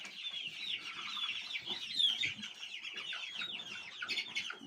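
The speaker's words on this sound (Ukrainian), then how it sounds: "Курчатка." Young chicks clucking and peeping in a chicken coop, a steady busy chorus of small bird calls close by with no talking.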